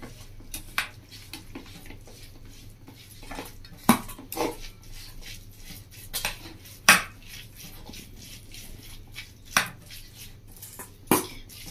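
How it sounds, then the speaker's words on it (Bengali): Gram flour (besan) being kneaded by hand into chopped mixed vegetables in a bowl, giving soft, steady squishing and mixing under sharp clinks of utensils against the dish at irregular intervals, close and fairly quiet, with no talking. "তো বেসনটা দিয়ে এবার ভালো করে একটু মেখে নেবো সবজির সাথে।"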